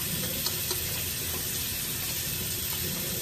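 Hands being washed under a running tap, a steady close rush of water with faint splashing throughout.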